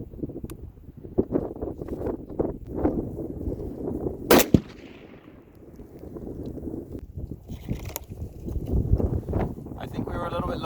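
Ruger American rifle firing Hornady ammunition outdoors during a scope sight-in, a single sharp shot standing out amid wind noise and background rustle, with people talking before and after.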